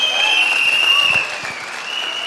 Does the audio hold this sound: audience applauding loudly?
yes